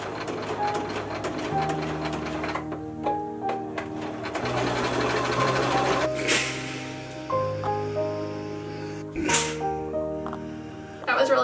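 Sewing machine stitching a thick tartan fabric brim for a deerstalker hat, its motor whirring in steady runs that stop and restart, with background music throughout.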